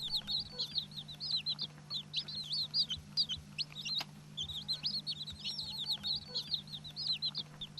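A mother hen clucks softly while her tiny chicks peep in quick, high bursts, roaming a tribal village lane; the calls are faint and intermittent over a low steady hum.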